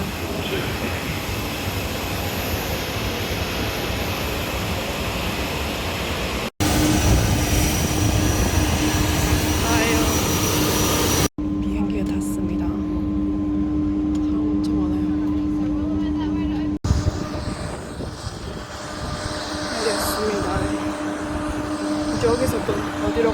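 Jet airplane engines at an Australian airport roar loudly and steadily across several abrupt cuts, with a low hum that rises and settles between sections.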